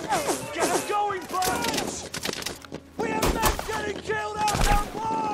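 Machine gun fire and scattered gunshots from the World War II drama series Band of Brothers, with dense bursts of rapid shots and impacts crowding close, almost without pause, under loud battle noise.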